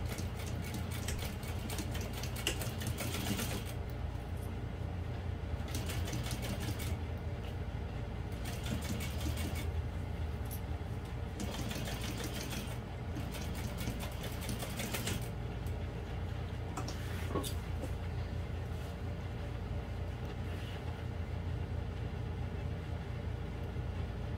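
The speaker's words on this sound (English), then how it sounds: "top stitch the hole in the lining closed right here" Sewing machine top stitching a vinyl bowler bag, a continuous mechanical whirring with rapid ticking needle strokes in several runs separated by brief pauses, close and steady throughout.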